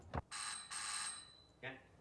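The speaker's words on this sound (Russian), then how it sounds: "Звонят." An electric bell rings in bright, sustained bursts, two long rings followed by a shorter one after a pause, clear and fairly close, with a brief separate sound just before the first ring.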